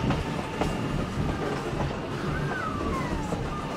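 A Virginia & Truckee steam train runs steadily on its rails, a continuous low rumble with faint clicking and a brief rising squeal near the end, heard from on board with no talking.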